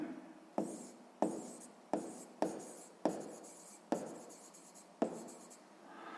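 A pen writes by hand on paper while a sixth-grade math exercise is worked out. Near and alone, it gives a steady series of short scratching strokes, each starting with a sharp tap and fading, about one per second.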